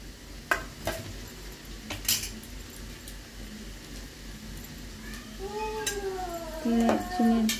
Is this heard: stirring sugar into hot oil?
yes